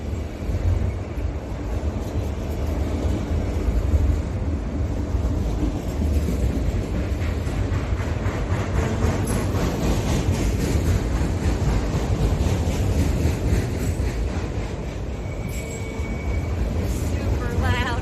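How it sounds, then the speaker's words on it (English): Train passing very close by, a loud continuous rumbling roar of wheels and rail cars holding steady throughout with a faint high squeal. "Super loud next to this train."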